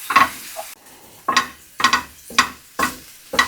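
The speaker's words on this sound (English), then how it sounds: "we're just going to deglaze the bottom of this pan" A pan being stirred and deglazed while making sausage gravy with flour: a background sizzle broken by sharp, repeated scrapes and clinks of a utensil against the pan, roughly every half second, close and clear, with no talking.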